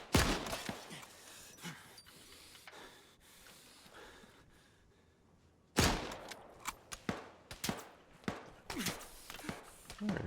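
Gunfire erupts in Antistasi Ultimate on the Takistan map, with scattered sharp shots early, a quiet lull, then a loud burst of repeated cracks and reports from around the position.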